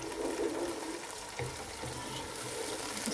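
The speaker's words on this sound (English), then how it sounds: "Going to add a bit of cold water, and this is going to help to melt the onions." Cold water poured into a pan of well-browned onions for a gluten-free chicken and spinach curry, giving a steady sizzling, rushing pour that continues for a few seconds with no talking.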